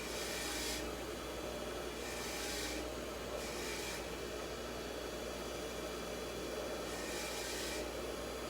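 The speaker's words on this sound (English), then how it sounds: "I'm going to clean these threads up too." Bolt threads on Norton Commando parts are scrubbed clean, a close, steady rasping rub with a few louder brushing strokes spaced through it, with no voices.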